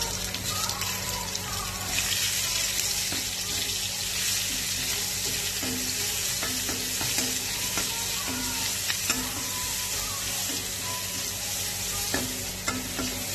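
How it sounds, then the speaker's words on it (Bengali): Steady sizzling of onions frying in hot oil, with occasional stirring clatter and scraping, close and continuous, no one speaking. "এবার দেবো কেটে রাখা পেঁয়াজ"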